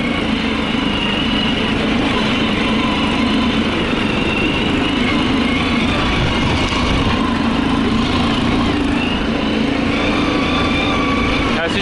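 A Stels ATV300 quad bike engine idles steadily at close range after two years unused, a continuous buzzing drone with no change in pace throughout.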